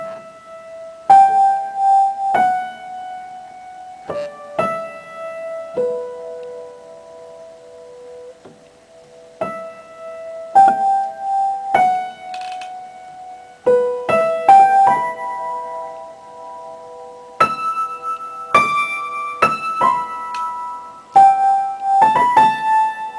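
A song from Pokemon 2000 played on a bell-like melodic instrument, clear single notes and short phrases sounding one after another with ringing decays, close and unaccompanied, no voices.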